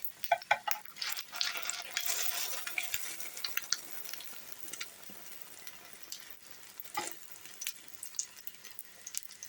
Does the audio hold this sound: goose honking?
no